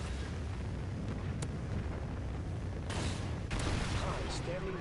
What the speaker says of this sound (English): Friendly Trinity rocket sounded inbound.